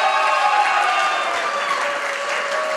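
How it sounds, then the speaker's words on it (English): An audience applauds after a dance performance at a CEOs' event, a steady moderate clapping that tapers slightly, with a faint crowd murmur underneath. "Clap again, guys."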